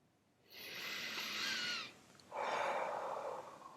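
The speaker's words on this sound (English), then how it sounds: "let's begin by taking a few deep breaths in through our nostrils and out through our mouth" Two long, slow breaths during a guided meditation, a soft airy inhale through the nostrils followed by a fuller exhale through the mouth, close and quiet.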